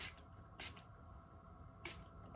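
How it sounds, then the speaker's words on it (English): Hair spray is misted onto hair in three short, quiet hissing bursts spaced apart, close to the ear against a hushed room. "I'm gonna quickly spray this in my hair"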